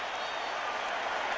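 Loud, steady roar of a packed stadium crowd at a 1997 NFL game between the Dallas Cowboys and San Francisco 49ers, a dense continuous wash of cheering and noise with no breaks.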